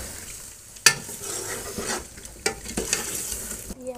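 Chicken pieces dropped into a hot pan for haleem, sizzling and frying steadily with a sharp burst as they land and a few scraping stirs after, no talk.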